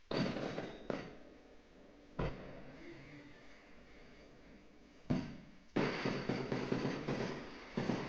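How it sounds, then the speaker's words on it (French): Fireworks launched by the town hall for the holiday celebrations thud and crackle at a distance, a few muffled booms followed by rumbling bursts and fizzing tails that fade between blasts. "on a le droit à un feu d'artifice tiré par la mairie"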